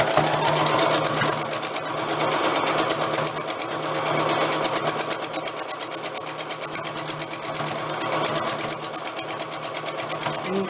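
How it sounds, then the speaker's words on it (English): Loud, close sewing machine doing free machine stitching, running continuously with a fast rhythmic needle chatter that pulses steadily throughout. "Okay, so just do a few stitches"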